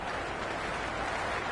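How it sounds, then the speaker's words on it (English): Stadium crowd in the Cricket 26 video game, a dense, steady roar of cheering and applause that fills the whole moment without a break, loud and close. "Will you listen to that crowd? They are loving this."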